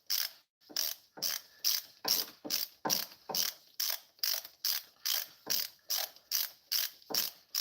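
A ratchet wrench clicks in a steady run of about twenty rapid strokes while tightening bolts on a Ford Performance 4Port cylinder head being test-fitted to a Ford Focus ST, close and loud with no talking.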